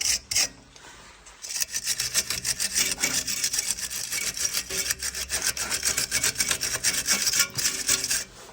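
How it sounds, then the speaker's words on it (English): Threads on Peugeot 308 front strut bolts are cleaned with repeated rapid scraping strokes, a close, steady brushing rasp that follows a short pause at the start. "clean up the threads on the strut bolts"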